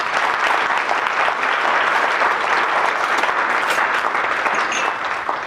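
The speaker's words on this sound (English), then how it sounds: "So let's give these people a round of applause." Sustained, loud applause from a large audience at a university scholarship luncheon, an even wash of many hands clapping from start to finish with no talk over it.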